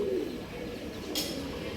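A female phatta pigeon gives a short, soft low coo up close, and a faint brief rustle follows.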